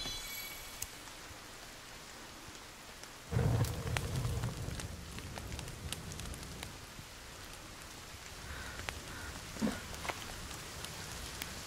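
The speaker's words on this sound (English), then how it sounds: "Jeez, that thunder." A thunderstorm in the survival game The Forest: constant rain hiss, then a loud low thunder rumble bursts in and rolls on before fading, with another softer rumble later and scattered drop ticks over the downpour.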